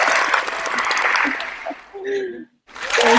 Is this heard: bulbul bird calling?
no